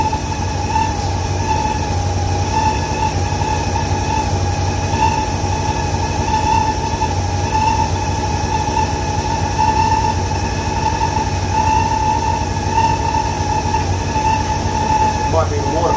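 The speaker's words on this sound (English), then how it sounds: "Idler pulley's noisy." A noisy idler pulley on a running Lincoln Continental engine gives off a steady droning whine with sustained tonal rings and a constant mechanical hum, close and unbroken.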